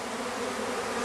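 Honey bees from a package buzz densely and continuously as they are dumped into a Langstroth hive, a close, loud, steady drone.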